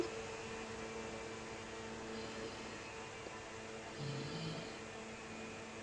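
A sewing machine stitches fabric for a one-shoulder baby frock, a steady even whir that runs continuously at moderate volume with little variation.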